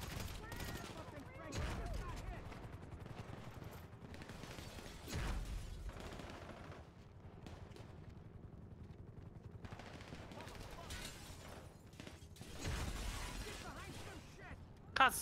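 Gunfire from GTA 5 crackles in scattered bursts of shots, fairly quiet and mixed with game noise, with a person talking now and then.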